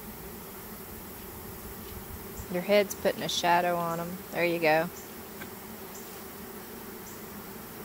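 Honeybees at an open hive give off a faint, steady buzz throughout, while a couple of people talk up close in the middle.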